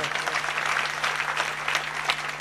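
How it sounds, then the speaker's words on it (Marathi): Sustained audience applause at a Marathi kirtan, dense crowd clapping at steady loudness for the whole stretch, with no voices over it. "या सगळ्यांसाठी एकदा जोरात टाळी वाजवा"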